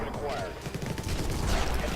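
Gunfire in the top-down shooter Infested Planet, where a sniper targets enemy spawners, comes as a dense, continuous rattle of overlapping shots and impacts for two seconds under a steady battle din.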